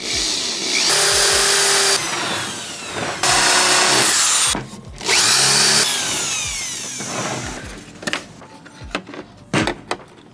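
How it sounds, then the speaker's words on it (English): A power drill with a paddle bit whines at high speed in several bursts, its pitch dropping as the bit bites into wood, with clattering and handling noises between runs. "I wasn't sure how deep I needed to drill"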